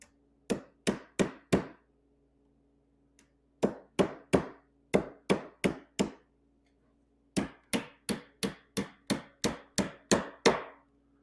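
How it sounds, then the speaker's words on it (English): A hammer drives small nails into the corners of a wooden beehive cover, sharp close taps in quick bursts of four to nine blows separated by short pauses, with no talking. "I'll just drive a nail into each one of these corners"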